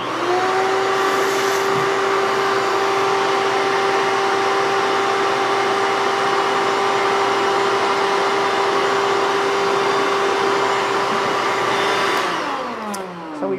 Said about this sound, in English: I'll just vacuum it out.